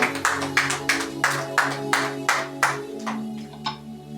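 A church congregation claps together in a steady rhythm, about three claps a second, loud and close over a sustained musical background, with no talk during the clapping.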